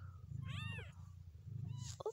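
Cats, including mother cats with kittens, give short rising meows over a steady low purr. The sounds are close and soft, and near the end there is a brief higher mew.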